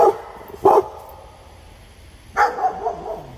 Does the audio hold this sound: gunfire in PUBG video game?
no